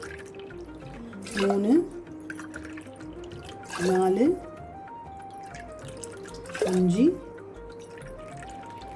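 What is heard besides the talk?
water poured by tumbler into a pot for cooking rice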